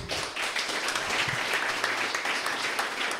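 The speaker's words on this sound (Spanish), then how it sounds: "Dale un fuerte aplauso al Señor." A church congregation breaks into strong sustained applause, dense and loud throughout, with faint voices mixed in.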